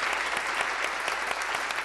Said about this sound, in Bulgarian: Наистина аплодисменти заслужават.